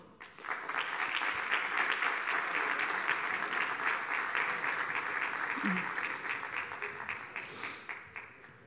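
A crowd applauds chefs from Culler de Pau and Alchemist as they walk onto the stage at an innovation session, a sustained, even roll of clapping that swells quickly and tapers slightly at the end.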